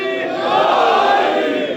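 A large congregation at a Muharram majlis roars the Nara-e-Haidari slogan in unison, a loud, sustained massed shout that swells and holds for a moment.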